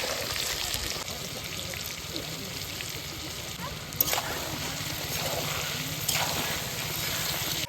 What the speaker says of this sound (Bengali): তো আলুটা ভাজা হয়ে গেছে, আমরা তুলে নেবো।